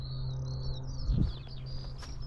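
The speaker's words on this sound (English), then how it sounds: "Just like there's tons of bird song." Birds chirp in grassland in short overlapping bursts against a low steady hum, with a brief low thump near the middle and high insect-like buzzing mixed in.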